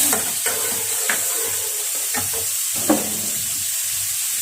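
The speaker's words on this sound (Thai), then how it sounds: "ใส่สับปะรดลงไปเลยค่ะ แล้วก็ใส่เครื่องปรุงนะคะ" Pineapple and pork bones are stir-fried in a pan with seasoning, giving a continuous close sizzle broken by sharp, irregular scrapes and knocks of a spatula against the pan, with no voices.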